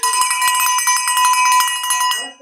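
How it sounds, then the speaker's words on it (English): A bell rung rapidly and loudly, bright metallic strikes in quick repeated succession for about two seconds before ringing off. "do we have the bell?"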